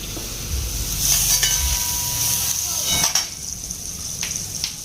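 Butter sizzles in a hot pan at home while Dahi paneer masala is being made, giving a steady close hiss with light stirring scrapes and a few clinks of utensils.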